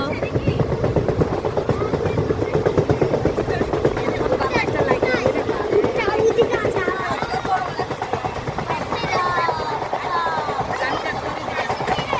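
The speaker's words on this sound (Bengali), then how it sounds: "এখন আমরা ট্রেনে করে যাচ্ছি" A crowded train rumbles and clatters along the tracks with a steady rhythmic rattle, while people talk loudly over the constant noise.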